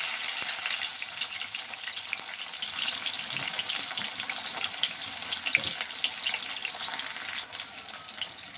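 Chopped onions frying in hot oil with cumin and mustard seeds for a bitter gourd gojju, a steady close crackling sizzle with scattered sharp pops and occasional stirring, no talk.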